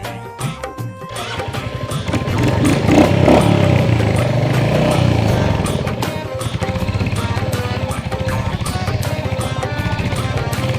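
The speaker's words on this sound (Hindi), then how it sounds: "बाइक पे बैठ कर ही घूम लिए" A motorcycle carries riders through a rural Indian village: a loud, continuous engine drone with rattling that swells as it accelerates, then settles into steady running with clatter throughout.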